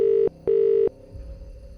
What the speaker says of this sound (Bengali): শুভ্র বেশ কিছুক্ষণ ঘাঁটলো ফোনটা, তারপর সৌমিতাকে ফোন করলো।